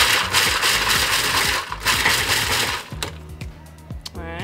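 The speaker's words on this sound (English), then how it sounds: "So I use a food processor to do it" Food processor pulsing to chop pecans, a loud rattling whir of nuts tumbling against the blades in bursts, close, then a short slowing whine as the motor stops.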